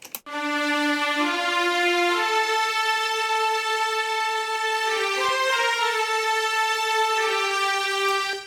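Smooth sustained orchestral strings play a slow legato melody, notes gliding into one another with a rich layered tone, steady and full throughout, no voices.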